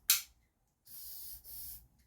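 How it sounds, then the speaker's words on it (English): WD-40 sprays into a chainsaw's anti-vibration mount as two short, close aerosol hisses after an earlier sharp click, with quiet gaps between. "I'll just put the WD-40 in there."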